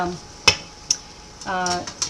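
A metal dumpling maker set on top of a pot of boiling water on a stove: two sharp clanks a moment apart, then a short rattling scrape and a final clink, close and fairly loud, with a brief voice in between.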